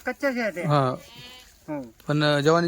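Kathiawari goats arriving by truck at a livestock sale bleat loudly nearby in several wavering calls with short gaps between them.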